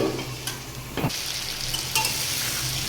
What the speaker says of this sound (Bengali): ভালোভাবে ভাজতে দেবো, ঢাকা দিয়ে দিচ্ছি